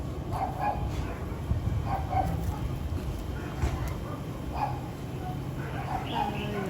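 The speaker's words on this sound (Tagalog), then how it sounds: "Malalaking aso po to." Several dogs bark in short bursts over a steady background noise, with people talking nearby between the barks.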